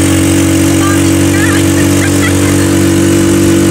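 A motorized tricycle runs fast on a provincial road, its engine a loud, constant droning hum with steady harmonics and faint chirps of other sounds on top.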